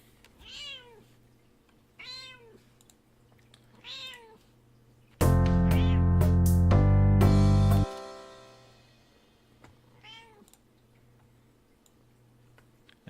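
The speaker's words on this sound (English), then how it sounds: "Excuse my cat." A house cat meows several times in a quiet room, short rising-falling cries spread out at intervals, with a soft steady ticking underneath and a loud burst of synthesized music cutting in midway.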